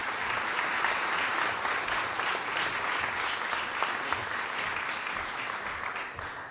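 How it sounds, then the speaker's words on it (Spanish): An audience at a conference opening session applauds to welcome the speakers, a dense, even round of clapping that stays steady and fades slightly toward the end. "Los recibimos con un aplauso, claro"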